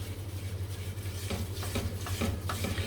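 Spoon stirring melting sugar syrup in a pan on a turned-off gas stove, scraping strokes with a few soft clinks over a low steady hum.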